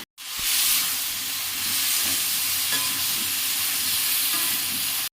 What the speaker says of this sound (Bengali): এইগুলো আগে ভেজে নেব তেল দিয়ে দিয়েছি কড়াইয়ে